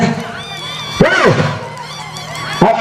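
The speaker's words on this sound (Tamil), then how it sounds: "சீட்டிடுங்கள் கைதட்டுங்கள் வீரர்களை உற்சாகப்படுத்துங்கள்" A crowd at a rural bull-taming event whistles and shouts, with a loud rising and falling whistle near the middle, another starting at the end, and cheering voices around it.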